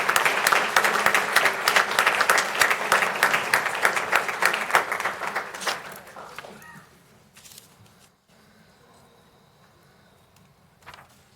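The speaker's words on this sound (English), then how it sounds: "Let's give him a round of applause." A city council meeting audience gives a round of applause, brisk clapping that swells then tapers off over about six seconds, leaving a quiet room with faint shuffling.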